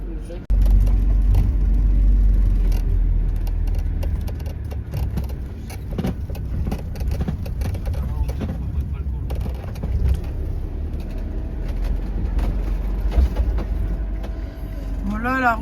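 A camper van drives slowly along a narrow town-centre road, a steady low engine rumble and road noise heard from inside the cab, with people talking over it throughout.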